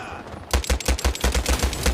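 Rapid automatic gunfire from a weapon in a World War shooter game, about a dozen loud, evenly spaced shots in a steady burst after a half-second quiet lead-in.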